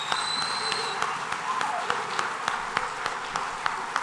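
Audience applause at a second grade music program, a sustained crowd of clapping at steady volume with a few sharper claps standing out and a brief whistle-like tone early on.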